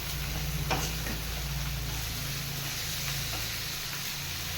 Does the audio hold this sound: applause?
no